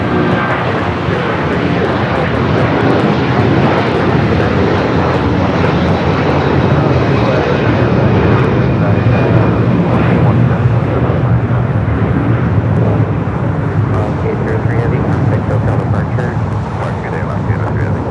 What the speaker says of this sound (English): the flight 777 freighter DHL Polar Cargo